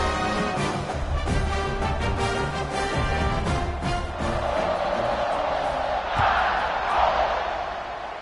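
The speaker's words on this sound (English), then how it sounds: "this crowd is buzzing after that last score" A football stadium crowd buzzes and cheers after a touchdown: a dense, steady roar that swells near the end, with an announcer's voice talking over it.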